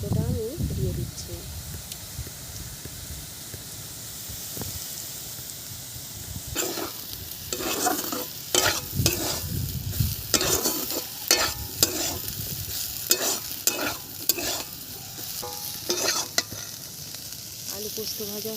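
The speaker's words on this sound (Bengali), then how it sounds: "আলু পোস্ত ভাজা হয়ে গেছে" Potatoes and poppy seeds fry in a hot pan while a spatula stirs them, sending a string of sharp, close scrapes and knocks over a steady low sizzle, quiet at first and then busy and uneven.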